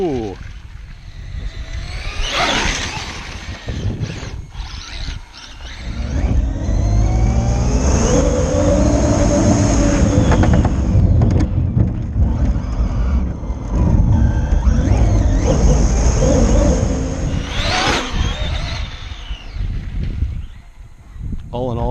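A Tekno BMW M3 GTR RC car drives around with a whirring, revving motor whine that swells and fades as it passes, close and loud. Someone talks over parts of it.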